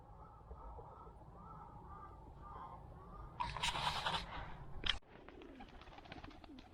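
Pigeons released from their loft, a white Van pigeon among them, give soft coos and calls beneath a burst of wing flapping and fluttering as the flock takes off close by, then settle into quieter scattered rustling.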